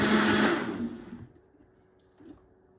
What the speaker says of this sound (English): now I'm gonna slowly turn on lowest setting in my blender